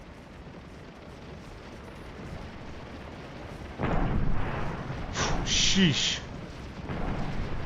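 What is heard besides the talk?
artillery fire in video game Scourge of War Gettysburg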